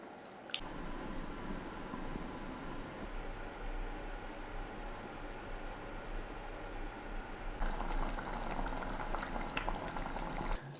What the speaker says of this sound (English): bring this back up to the simmer, turn it down and cook it out for 30 to 40 minutes until we have a lovely sticky jam